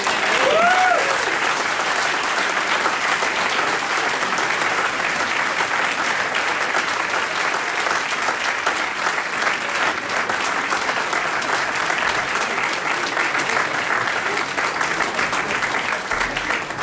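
Audience applause at an AA speaker meeting in Malibu, a sustained, even roar of many hands clapping that carries on loud and unbroken with no talk over it.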